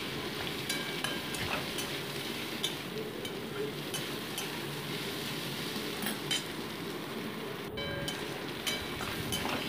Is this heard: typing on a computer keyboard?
no